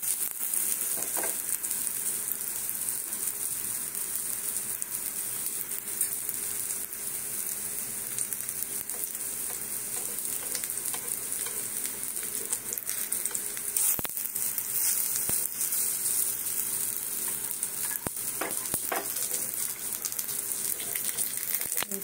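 Chana dal kebabs fry in oil in a pan with a steady bright sizzle, close and constant, with occasional faint stirring clicks and no talk.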